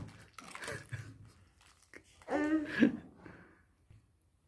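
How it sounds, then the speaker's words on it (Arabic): A girl crunches and chews a raw cucumber during a playful kids' food challenge, wet close bites and mastication sounds with faint background voices. "كلي هتاكلي الخيار"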